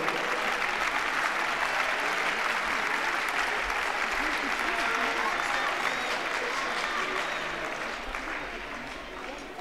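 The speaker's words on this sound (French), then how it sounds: "je vous demande de les applaudir bien fort" A crowd at the French championships semi-final applauds the players, a dense, sustained wash of clapping that holds steady before tapering slightly toward the end, with murmuring voices mixed underneath.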